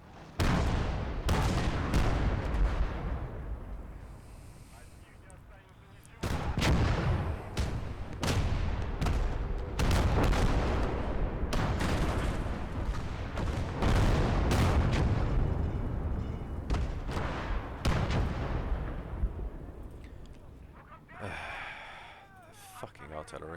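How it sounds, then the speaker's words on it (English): Artillery fire in the WWII strategy game Call To Arms: Gates Of Hell. Repeated heavy booming blasts and rumbling impacts come in dense bursts, mixed with loud game noise and some voice sounds. "Fucking artillery."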